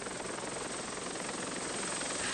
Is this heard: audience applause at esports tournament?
no